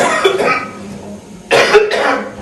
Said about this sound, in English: pardon me, I have a cough.